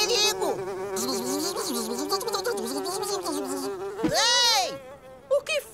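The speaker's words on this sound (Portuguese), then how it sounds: "Isso aqui está cheio de moscas!" Cartoon flies buzzing loudly around a farm, their whining drone sweeping up and down in pitch and swooping close past the listener, with no talk over it.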